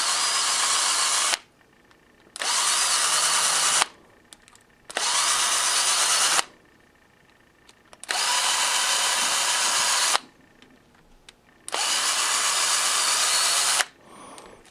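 A cordless drill backs out humbucker pickup pull screws through a threaded base plate, running in five sustained, close whining bursts of one to two seconds each, separated by short quiet pauses, with no talking.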